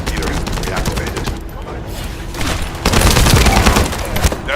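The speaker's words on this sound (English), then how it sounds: "That stopped the gunfire." Rapid bursts of automatic gunfire from the shooter video game The First Descendant, loud and close, with voices talking over the shooting and a denser, heavier barrage in the final stretch.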